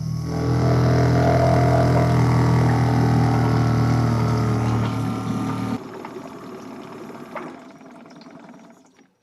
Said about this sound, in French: Si ce moteur démarre, je vais vraiment être impressionné.